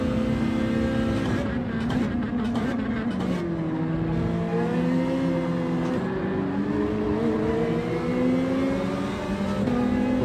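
Ferrari race cars at the start of a Gran Turismo 7 race at Laguna Seca give a loud, sustained engine roar that climbs through gear shifts, with a voice talking over it.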